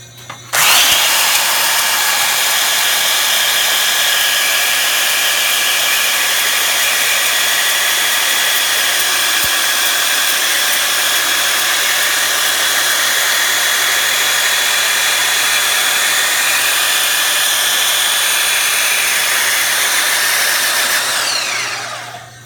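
A Sure Brush pipe-finishing machine with a 120-grit abrasive works a pipe end, a loud, steady high-pitched whirring grind that starts abruptly, holds unchanged for about twenty seconds, then winds down.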